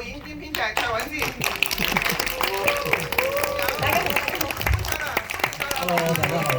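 A cinema audience at a thank-you screening of the Hong Kong film Vital Signs applauds to welcome the director-screenwriter, with steady, dense clapping throughout and voices and cheers mixed in near the stage.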